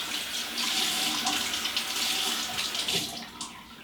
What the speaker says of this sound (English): get some water on it, saturate it,